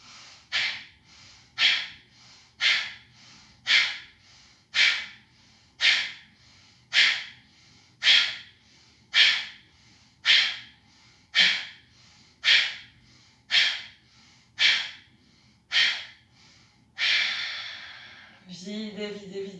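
Forceful yogic breathing, Sivananda style: a long run of sharp, evenly spaced nasal exhalations emptying the lungs, about one per second, close and clear, ending in a longer breath out and a spoken instruction.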